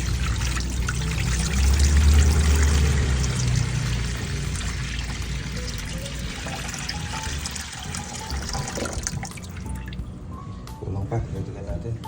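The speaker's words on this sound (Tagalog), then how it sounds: "Tapos lagyan ko na siya ng tubig." Water pours and trickles into a container at close range, a steady splashing fill that thins into drips toward the end, with people talking over it.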